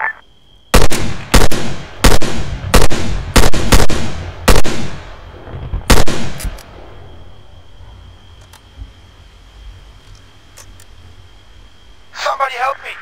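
Gunfire in the ArmA 3 military shooter game: about eight loud, sharp shots fire in a fairly steady sequence, each one followed by a trailing echo, before a quieter stretch and a brief burst of voice at the end.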